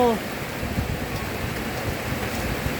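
Steady rain falls outdoors in a dense, even patter that continues for a few seconds without pause.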